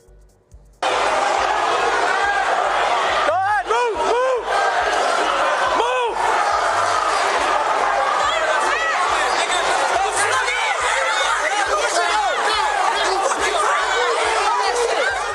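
A loud protest crowd at the downtown Cleveland Justice Center, caught on a police body camera, roars continuously with shouting, chanting and overlapping voices, punctuated by a few sharp bangs and yells.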